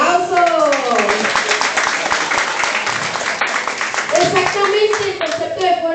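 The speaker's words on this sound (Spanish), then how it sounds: "Eso, un aplauso." Applause from the audience at a university forum on removing legal immunity from public officials, with dense, continuous clapping throughout and voices calling out over it near the start and again toward the end.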